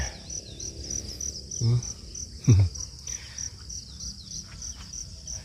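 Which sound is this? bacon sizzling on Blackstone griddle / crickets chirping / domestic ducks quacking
crickets chirping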